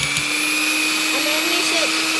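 An electric hand mixer whipping Dalgona coffee, a steady loud whirring motor hum running unbroken throughout, with a faint voice briefly heard beneath it.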